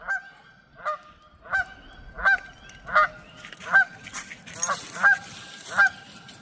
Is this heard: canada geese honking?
yes